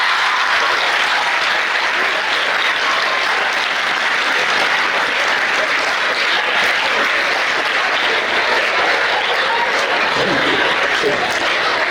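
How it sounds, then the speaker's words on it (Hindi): Loud, dense applause from a large group of children at a spiritual discourse gathering, continuous close clapping that carries on without a break, with some voices mixed in. "देखो आपके लिए बच्चों ने कितनी ताली बजाई"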